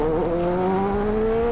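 High-revving CBR 1000 RR superbike accelerating in GTA San Andreas, a steady rising engine whine with clear harmonics held close and loud throughout, no voices.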